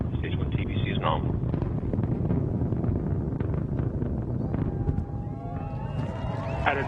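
A Northrop Grumman Antares rocket roars at full thrust during ascent on a cargo mission to the Space Station, a dense, steady low rumble heard from afar, with a voice talking over it.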